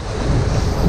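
Strong sea wind buffets the microphone on a boat while fishing for halibut offshore, a steady loud roar with low rumble and surf-like wash throughout, no voices.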